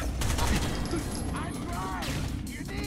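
Dense, sustained automatic gunfire rattles during a firefight in the tactical shooter Rainbow Six: Vegas, rapid overlapping shots with a few shouted voices over the barrage.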